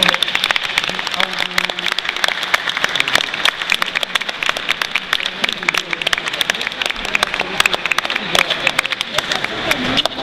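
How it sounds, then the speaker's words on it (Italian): Guests clap at a 60th wedding anniversary party, a dense, continuous patter of hands lasting the whole stretch, with voices mixed in underneath. "E noi facciamo un applauso"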